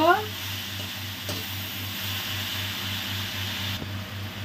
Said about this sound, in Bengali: এখন আমি গ্যাসটাকে বাড়িয়ে খুব ভালো করে নেড়ে টেড়ে দিব।